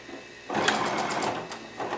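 Sewing machine running a short burst of stitching along a quilt-piecing seam started on scrap fabric, a steady close mechanical whir that starts abruptly after a quiet moment and holds to the end.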